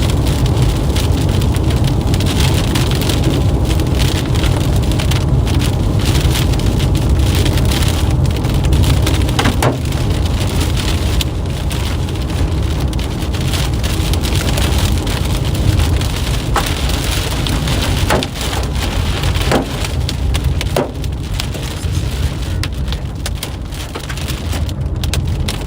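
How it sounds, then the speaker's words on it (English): Large hail pounds on a Subaru car during a storm, a dense, continuous drumming roar with scattered sharper impacts standing out, close and loud for the whole stretch. "Decent sized hail."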